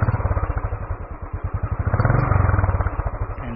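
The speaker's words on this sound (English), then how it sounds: "this has got one of the best idling sounds on any bike in India" A Royal Enfield Classic 350 motorcycle with a stainless steel exhaust sits idling close by, its single-cylinder thump pulsing in a steady, even rhythm throughout.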